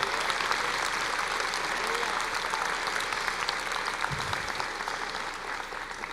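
Steady applause from a church congregation, dense clapping sustained throughout at an even level.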